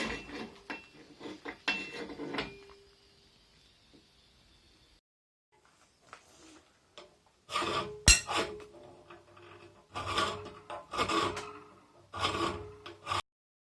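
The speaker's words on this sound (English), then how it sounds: "So I'm gonna be clamping and filing." Metal file rasping against a wooden axe handle as it is shaped to fit a hatchet head, in uneven bursts of scraping strokes with quiet pauses and scattered sharp knocks.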